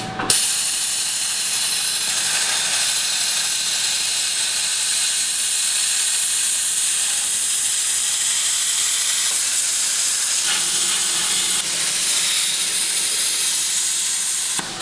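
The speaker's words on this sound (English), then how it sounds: "We're going to set up the plasma cutter and then show you how we plasma cut it." Plasma cutter slicing through a steel brake caliper bracket, giving a loud, steady hiss that runs almost unbroken for about fifteen seconds, close up and alone with no talking.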